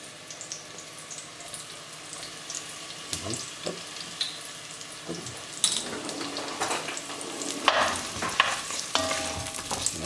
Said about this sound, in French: Voilà, on fait revenir gentiment l'oignon.